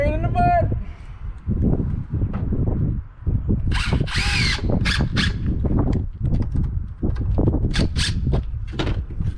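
A power drill driving a screw whirs in several short bursts up close, pausing between runs, with squeaky high-pitched spins and some speech between them.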